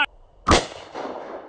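A Glock pistol fires a single loud, sharp shot outdoors at a target, the crack followed by a long decaying echo, with a faint click just before.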